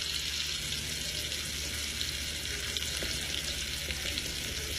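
Scallops sizzle in a hot pan with a dense, steady crackling hiss that carries evenly from start to finish, close and fairly loud with no talking.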